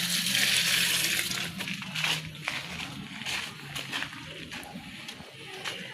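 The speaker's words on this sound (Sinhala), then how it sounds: "මේකේ වතුර ටික ටික ඇද පැලවලට දා ගන්නවා මම" Water from a giant gourami fish tank splashes and sloshes onto plants, a close, uneven pour that eases off after a heavier start, with faint background noise and no talking.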